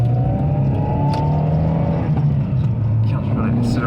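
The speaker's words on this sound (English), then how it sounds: "Can't really accelerate too hard in first because there is some torque steer." A 1991 Toyota Sera with a factory five-speed manual accelerates in first gear, its engine note climbing steadily in pitch, loud and close from inside the car, with someone talking over it.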